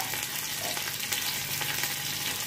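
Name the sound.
garlic and green chillies sizzling in hot oil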